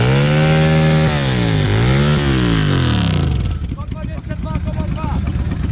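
A loud motorcycle engine revs hard at a motorcycle rally's rev contest, its pitch sweeping up and down, then drops into a rough, rattling idle.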